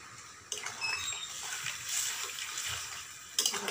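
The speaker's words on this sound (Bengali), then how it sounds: "এবার আমি একটু পরিমাণ মতো জল দেব।" Water poured into a pan of vegetarian soybean curry, a steady splashing stream that starts sharply, runs for about three seconds and ends with a brief louder burst, close and alone with no talking.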